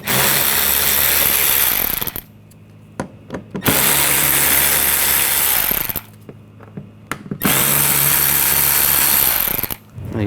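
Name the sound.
power drill with T20 socket removing bumper screws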